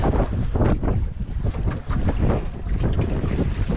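Strong wind buffeting the microphone aboard a small boat slowly approaching its mooring in foul weather, a loud continuous roar with gusty surges and a brief dip, water sounds underneath.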